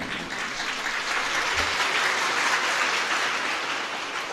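Sustained audience applause from a large gathering at a spiritual discourse, a steady, close wash of clapping hands that holds evenly for several seconds without talk.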